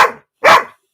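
A dog lets out two close, loud barks with a rough, growly edge, the second one the strongest, then it goes quiet.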